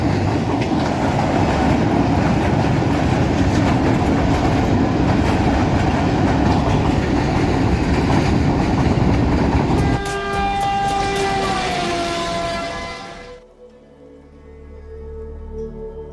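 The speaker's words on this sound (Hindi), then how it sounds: "हमारी खुशकिस्मती थी कि हमारे कुछ इंतज़ार के सबब हमें ट्रेन को देखने का मौका मिला।" A train crosses the bridge at Chiniot, its loud continuous rumble and rattling wheels giving way to a sustained horn blast before the roar cuts off and fades to quieter surroundings.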